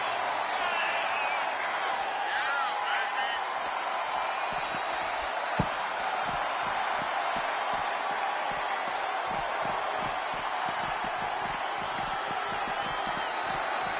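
A WWE 2K25 arena crowd roars in a continuous wash of cheering and noise for the whole stretch, with commentary talking over it.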